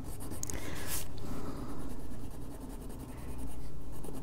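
Stickles glitter glue applicator tapping dots onto paper during adult coloring, a series of soft clunky knocks and scratchy scrapes close up, uneven in rhythm, with no talking.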